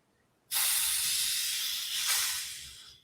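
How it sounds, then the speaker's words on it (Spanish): A soda bottle is uncapped gently, releasing a loud, steady gas hiss that starts abruptly, holds for about two seconds, swells briefly again, then tapers off. "lo que he hecho es liberar el gas"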